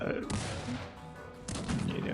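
Gunfire from the Cossacks 3 video game's Ukrainian campaign crackles in two bursts of sharp, rapid musket shots, fairly faint under the game's background sound.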